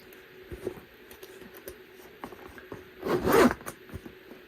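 A Louis Vuitton Speedy 20 handbag zipper is pulled open in one quick rasping stroke near the end, preceded by soft handling clicks and rustles close by.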